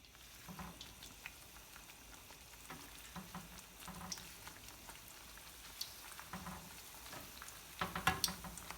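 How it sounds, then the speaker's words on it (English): A tortilla for a tostada frying in hot oil, a soft, steady crackle and bubbling at low level with a few louder spatters near the end. "let's go ahead and just put the first tostada in"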